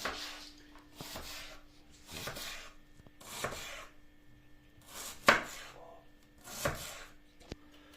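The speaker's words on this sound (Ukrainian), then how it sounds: "Нарізаємо цибульку полукільцями" A knife chops through onion on a cutting board in a series of slicing strokes, roughly one per second, close and crisp.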